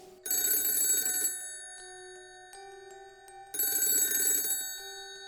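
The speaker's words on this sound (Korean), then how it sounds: "서재 쪽에서 전화가 울리는 거예요." A telephone rings in a study, two loud bursts of bell-like ringing separated by a pause, with a faint lingering tone between them.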